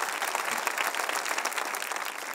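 A church congregation applauds during a French-language Sunday service, with dense, steady clapping from many hands filling the room at a constant level throughout.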